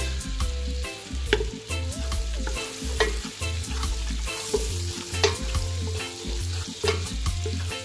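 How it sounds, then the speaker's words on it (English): Diced onions fry in a hot pan with a steady sizzle, broken by repeated scraping and stirring strokes of a utensil; close and continuous with no talking. "we're going to go in with our nicely chopped diced onions"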